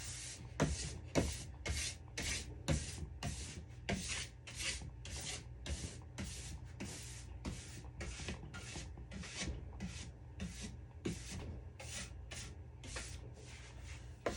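A nylon finishing brush buffs wax on a ski in quick repeated strokes, a steady series of close bristly swishes about one per half second, fairly quiet with no voices.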